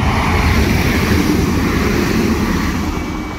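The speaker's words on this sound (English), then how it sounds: "Here's a train." A train passes the Drumbane Road level crossing in Craigavon with a loud, steady broadband roar that fills the whole stretch and eases off slightly toward the end, with no voices.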